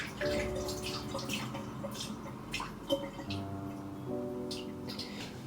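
A kitchen tap runs in a soft, steady stream for hand washing, with faint splashes and small drips at low volume.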